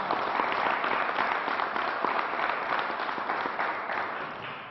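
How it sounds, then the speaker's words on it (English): Audience applause at a New York state news briefing, a steady, dense clapping from a crowd that holds loud throughout and tapers slightly at the end, with no talk over it. "let's give her a round of applause"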